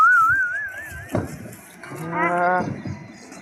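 Thirsty buffaloes give a single low, drawn-out moo close by in a quiet setting, preceded by a thin whistling tone and a brief knock, with faint background sounds.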